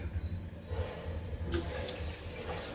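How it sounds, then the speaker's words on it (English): Water splashes and gurgles as about a cup is poured into a pot of dal set inside a pressure cooker, a close, burbling, uneven pour that continues throughout. "And add about a cup of water"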